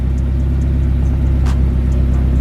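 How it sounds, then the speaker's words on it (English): A Nissan S15 idles loud and close just after being started, a steady low pulsing engine rumble with no talk over it. "So I've just started the car."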